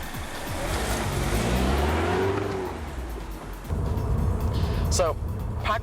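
A 2015 MINI Cooper S Coupe pulls away and climbs through revs, engine note sweeping upward, then dropping on a shift before resuming, with a brief tire or whistle-like squeak near the end.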